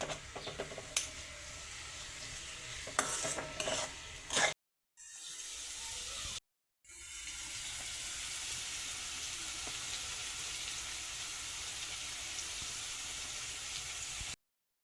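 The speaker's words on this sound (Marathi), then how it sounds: "आता कांदा बी चांगला गोल्डन ब्राऊन होईपर्यंत परतून घ्यायचा आहे." Chopped onion stir-fried in a pan toward golden brown gives a soft, steady sizzle, broken by two short silent gaps, with some light clatter early on.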